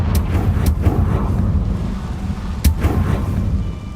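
Bombarda and Confringo spell explosions in Hogwarts Legacy, a rumbling low blast bed with a few sharp cracking hits, one near the start and another midway, fairly loud and steady.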